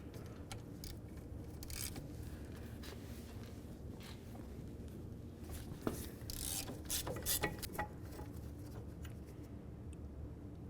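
Ratchet clicks from loosening the caliper bracket bolts on the front of a 2000-2005 Buick LeSabre during a wheel bearing job, with irregular bursts of ratcheting and metallic clatter over a steady low background hum.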